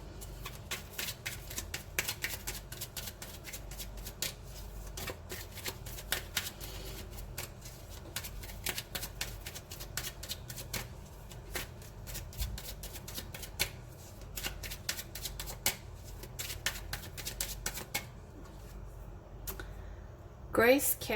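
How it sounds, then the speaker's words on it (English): Oracle cards shuffled by hand in a long run of crisp, rapid riffling flicks and taps, close and steady, with a voice talking softly underneath. "I'm going to pick one card from here for you"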